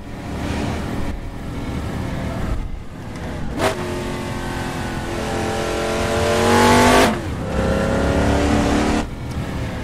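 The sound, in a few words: GMC Vandura 1500 van engine revving in Assetto Corsa video game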